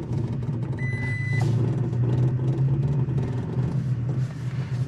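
A short electronic beep chimes inside a midsize pickup truck as multi-terrain select is turned off, over a loud, steady engine rumble and road noise during a steep climb.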